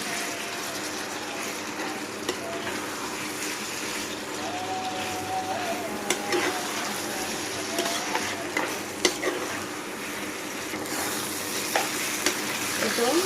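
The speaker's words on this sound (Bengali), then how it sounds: "এখন এর মধ্যে আমি কাঁঠালের বীজগুলো যে কেটে রেখেছিলাম সেগুলো দিয়ে দিচ্ছি একটু ধুয়ে নিয়েছি হালকা করে এখন নেড়ে চেড়ে মিক্স করে নিতে" Jackfruit seeds being stirred into spice paste fried in a pan alongside dried chepa shutki fish, with continuous sizzling and frying hiss, broken by scattered scraping clicks of the spoon against the pan.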